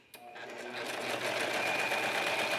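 A serger sewing machine stitches sweater fabric, starting with a click and then running as a fast, steady, close mechanical whir.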